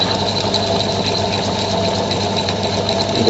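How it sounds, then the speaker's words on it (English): A tap cuts a thread into a bolt on a Huxley machine, giving off a steady, unbroken mechanical whirring drone at close range. "the bolt is being cut by the tap"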